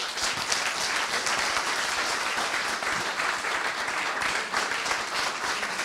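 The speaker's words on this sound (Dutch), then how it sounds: "dik applaus voor eh, het initiatief Stoptober wat mij betreft" Sustained applause from an audience at a speech by a Dutch state secretary for the Stoptober initiative, dense steady clapping filling the room without a break.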